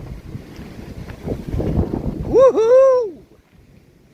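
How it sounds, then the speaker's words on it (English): Storm wind in German woods in Hessen during a level 3 thunderstorm warning, gusting near 125 km/h, roars and buffets the microphone with a low rumble before a man lets out a loud, excited whoop. "Here comes that 125 km/h wind."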